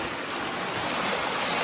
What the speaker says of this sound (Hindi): यहाँ पे भी पानी भर रहे हैं।